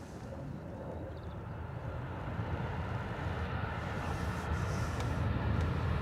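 A Ryanair airliner arriving from Amsterdam at Dublin Airport gives off a steady broadband jet roar that slowly grows louder over about six seconds, heard from a distance with no voices.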